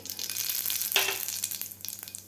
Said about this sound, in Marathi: त्याच पॅनमध्ये मी दीड चमचा तेल टाकलेलं आहे त्यामध्ये आपल्याला घालायचे आहे मोहरी